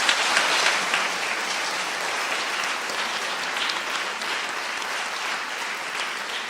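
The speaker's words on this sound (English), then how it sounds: "Let's give them a round of applause." Audience applause at a charity fundraising gala in honour of the event's sponsors, a steady, dense clapping that stays loud and even throughout with no talk over it.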